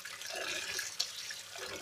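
Water runs and splashes steadily into a basin as nettles are washed by hand, a close, continuous hissing rush with small splashes and no talking.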